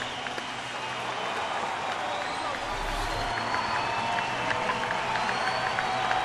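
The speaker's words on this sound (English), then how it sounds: "Fans standing and giving yet another ovation to Mark" A home baseball crowd at a Diamondbacks versus Padres game rises in a standing ovation for a veteran player, giving a steady, even wash of applause and crowd noise that holds throughout, with an announcer talking over it.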